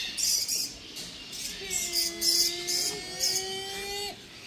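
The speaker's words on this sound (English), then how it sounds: "That is that bird making that noise." A bird at Featherdale Wildlife Park gives long, drawn-out whistling calls with slowly sliding pitch, several repeated in sequence, heard at moderate distance over a steady hiss of insects or crickets.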